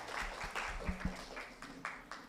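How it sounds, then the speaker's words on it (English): Audience applause at the Work and Travel Forum 2024, faint scattered claps in an irregular run with a few louder, closer claps among them. "Can I get a round of applause for Mrs. Lewis, our work and travel agencies, and our awardees?"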